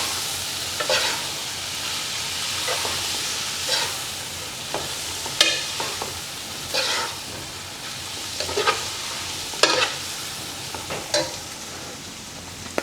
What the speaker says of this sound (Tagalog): Mix lang natin until mag-combine ang ating mga